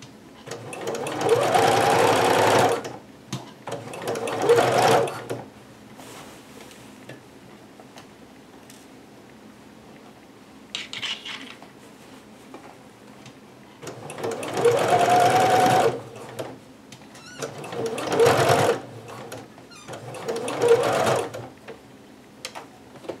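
A home sewing machine stitches fabric for a Butterick 6322 pattern garment in loud bursts of steady mechanical whirring, several runs of a few seconds each separated by quieter pauses with faint handling noise.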